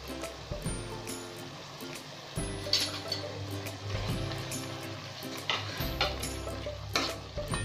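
Tomatoes, dried red chillies, shallots, garlic and coriander sauté in a pan, a steady sizzle broken by repeated spatula scrapes and taps at an uneven rhythm, under a low constant hum.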